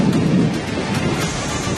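Heavy rain pours steadily with a low rumble of thunder underneath, a dense continuous roar during a storm in Karnataka, with no voices.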